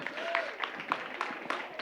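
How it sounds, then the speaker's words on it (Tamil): Scattered, fairly faint applause from an audience at a Tamil community cultural program after a dance performance, thin and uneven with a few distinct claps standing out, set in a hall's background murmur. "உங்களுக்கு சிறப்பாக ஒரு கைத்தட்டிடலாங்க"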